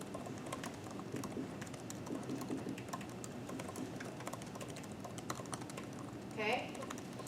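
Fast, steady typing on a computer keyboard while writing a CMake file, a continuous patter of key clicks heard fairly close in a quiet room with a faint brief voice sound near the end.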